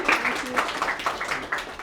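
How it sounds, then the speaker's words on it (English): Applause from the audience at a WIRE networking event, moderately quiet, with uneven clapping that rises and dips through the short stretch, mixed with some background voices. "Big round of applause."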